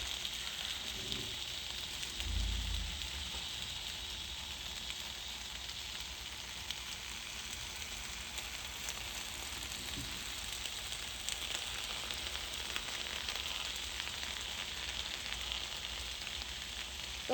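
Tomatoes cook in a pan for molcajete salsa, giving a steady, soft frying hiss that runs unbroken and even throughout, close by with no talking.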